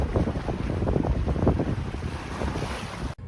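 A boat sits in the middle of the sea off Ibiza, with steady wind buffeting the microphone and water rushing and splashing against the hull in a continuous loud roar.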